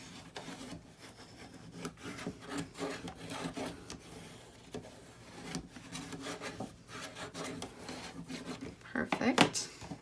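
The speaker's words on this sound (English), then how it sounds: "you can again take your bone folder and go in there. Just rub it all down really nicely." A bone folder rubs paper down on a papercraft tissue box with soft, uneven scraping and brushing strokes, close and fairly quiet, plus occasional light taps.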